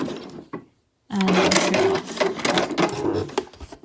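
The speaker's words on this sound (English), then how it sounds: "And then if you want to, you can do a little back stitch." A sewing machine back-stitching the seam of a dust bag, a brief tap followed by a pause, then a steady loud whirring run of stitching close by.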